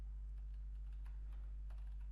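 Faint typing on a computer keyboard, scattered soft key clicks at an uneven pace over a steady low electrical hum.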